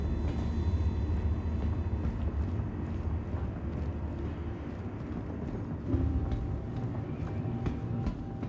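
Continuous rumbling train ride aboard a futuristic rail car in the Star Citizen video game, a steady low clatter and hum running throughout with faint rhythmic knocks, no talking.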